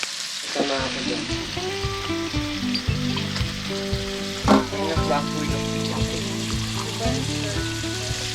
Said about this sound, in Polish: To się smaży